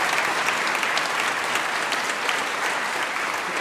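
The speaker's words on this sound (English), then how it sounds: "We can have a round of applause for him." Audience applause at the Shetland Folk Festival, a steady even wash of many hands clapping throughout, moderately loud with no talk over it.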